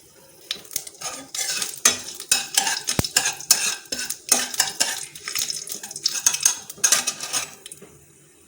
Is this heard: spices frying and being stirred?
yes